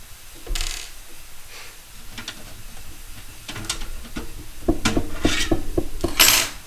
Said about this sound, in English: Just got to unscrew these protective shields.